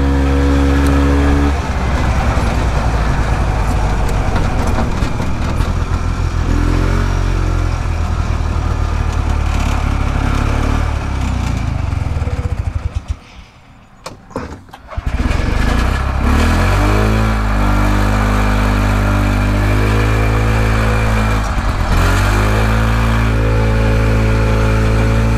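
A Harley golf cart engine runs steadily and loudly with mid-pitched idling and revving, cutting out briefly about halfway before picking back up and continuing to run.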